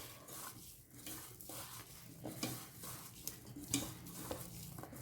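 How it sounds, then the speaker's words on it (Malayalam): Soya chunks being mixed by hand or spoon with ginger paste and maida flour, a faint, close, continuous squelching and scraping with small irregular clicks throughout. "ഇനി നമുക്കിതെല്ലാം കൂടി ഒന്ന് മിക്സ് ചെയ്യാം"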